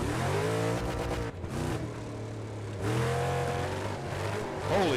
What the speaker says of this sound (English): That car don't sound no good no more.